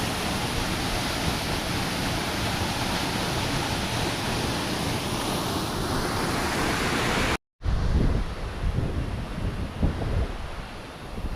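Rushing water from a waterfall along a hiking trail in Panama roars as loud, steady broadband noise, broken by a brief dropout near the end, with wind buffeting the microphone afterward.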